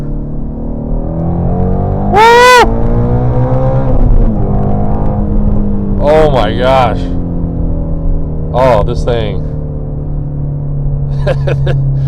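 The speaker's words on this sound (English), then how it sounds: "And the exhaust, I mean, it can be really quiet if you want, it can be really loud if you want" A 2019 Shelby GT350 engine revs hard and drones steadily in second gear, exhaust rumbling loudly while an excited voice exclaims over it.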